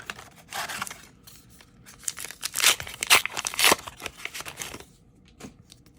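A Flesh and Blood TCG booster pack being torn open, close crinkly foil rips and crumpling in short bursts, louder tears clustered in the middle, with no talking.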